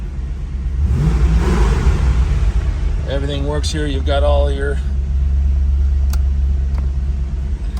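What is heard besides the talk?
1988 Chevrolet Corvette engine running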